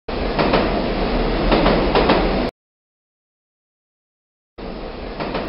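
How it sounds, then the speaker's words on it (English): A subway train runs underground with a steady, dense rumble and rattle of the rail cars, breaking off into silence midway before the roar resumes. "A subway is a train that operates underground."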